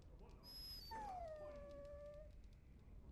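A dog in the Dragon Age Origins video game gives a long, drawn-out whimpering whine that slides downward in pitch, loud and close, preceded by a brief high tone.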